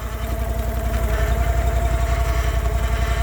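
A snowmobile engine runs steadily nearby, a loud continuous mid-pitched drone with a fast even pulse that holds throughout without pause.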